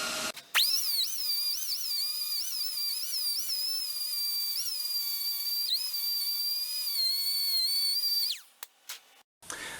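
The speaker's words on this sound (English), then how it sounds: "Let me take a grinder, clean that off." A power grinder whines loudly and steadily against a weld on a busted stud, its high pitch wavering slightly as pressure changes, then spinning down and stopping near the end.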